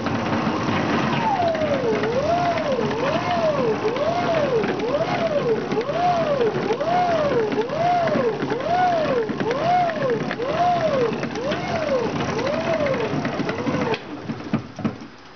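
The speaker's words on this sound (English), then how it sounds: "I've just turned the generator with my human power" Pedal-powered generator turned by human effort produces a cyclic whirring whine that rises and falls in pitch with each pedal stroke, about a dozen regular surges, loud and close, ending abruptly.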